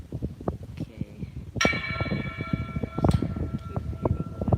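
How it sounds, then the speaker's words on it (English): A bell rings when something hits a fence: two clear metallic strikes with a lingering ring, heard over a background of steady low thumps and rustling. "Keep hitting the fence, which is why you're hearing the bell."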